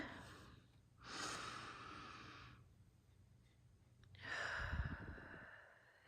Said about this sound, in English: I invite you to take a deep breath